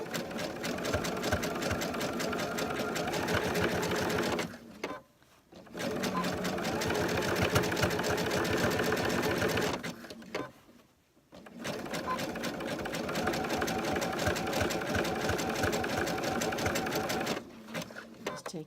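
A sewing machine stitches a rope bowl in three long steady runs separated by short pauses, its rapid mechanical chatter close and even.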